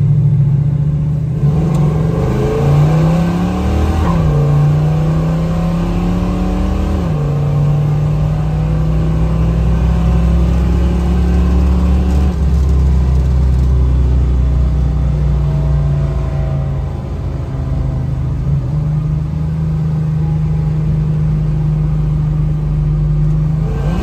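A 1966 Chevrolet Chevelle SS 396 V8 accelerates hard on a test drive. Its loud, close engine climbs steadily in pitch, drops sharply at each upshift and then rises again, with a deep rumble underneath throughout.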